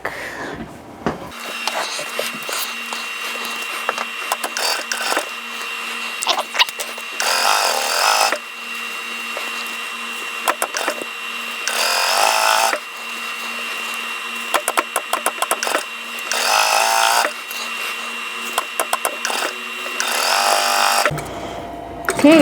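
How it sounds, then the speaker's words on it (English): Sewing machine stitching quilt block pieces together, running in several loud close bursts of rapid mechanical whirring separated by short pauses. "I'm going to go ahead, sew those together"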